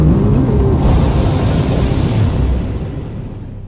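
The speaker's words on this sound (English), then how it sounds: "The upper stage of the rocket fires again." A rocket's upper stage engine fires, a loud, dense roar that holds steady before gradually thinning and fading away toward the end.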